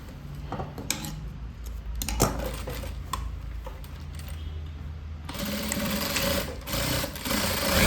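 A tailoring sewing machine stitches a cross-cut blouse: a busy mechanical whir with rattling, clicking parts that grows louder and denser partway through.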